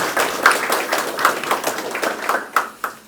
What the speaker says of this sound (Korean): 잘 오셨다고 감사하다고 박수 한번 크게 보내주시기 바랍니다